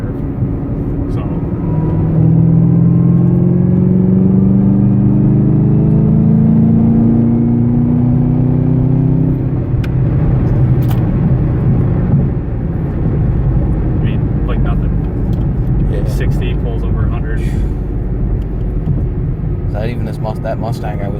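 A Camaro ZL1 muscle car engine revs and climbs steadily under load in fifth gear, its rising drone loud and continuous, with a person talking over it.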